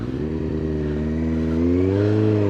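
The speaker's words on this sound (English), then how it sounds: "This ZX9R on the motorway, it's not too bad." Kawasaki ZX9R motorcycle cruising on the M5 motorway through Birmingham, a loud steady engine drone with rising pitch as it pulls, wind rushing over it.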